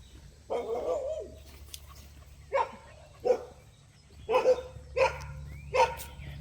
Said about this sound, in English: let's keep walking so we can get out of here before the dogs start barking too much